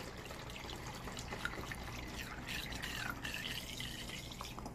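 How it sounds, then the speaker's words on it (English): Alcohol is poured through a funnel into an automatic dispenser, producing a faint, steady trickle that swells slightly midway, close but quiet, with no talk over it. "Then I'll pour the alcohol inside."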